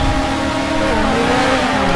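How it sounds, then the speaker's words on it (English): Race cars revving together at the start of GT2 qualifying at Spa, a loud, dense engine roar with rising and shifting harmonic tones, continuous and close. "Now the engine revs come up."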